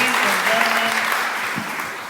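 Steady applause fills a room at an evening public meeting on political corruption in SLO County, dense clapping from many hands that holds even and slowly tapers toward the end.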